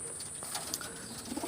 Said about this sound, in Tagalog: Ayan, mga ibon natin.